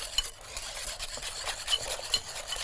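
A utensil stirs a mixture in a pan, scraping with steady, repeated strokes close up. No one speaks.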